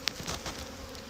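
Honey bees buzz across several frames of an active hive during a February inspection, a soft, steady hum with faint handling knocks, one sharp tap near the start.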